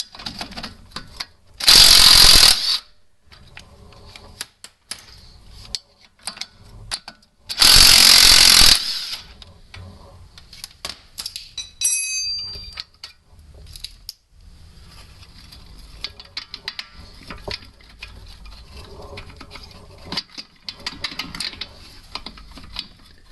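Ratchet on 18mm lower strut retaining bolts of a VW A3 during front strut replacement, heard as two loud bursts of rapid clicking separated by quieter handling noises and faint mechanical rattles.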